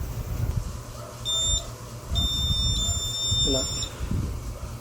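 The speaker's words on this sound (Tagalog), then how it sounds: "atong butang sa buzzer" An Arduino buzzer on a homemade water machine beeps in several high, steady tones, short bursts separated by gaps, partly over background noise and a voice speaking.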